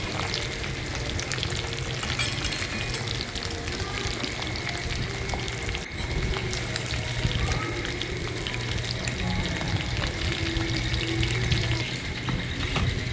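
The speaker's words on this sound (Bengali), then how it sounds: "আমার চিকেন ভাজা হয়ে গেছে।" Chicken frying in oil in a pan for a sesame chicken dish, a steady dense sizzle and crackle running throughout at close range, with no talking.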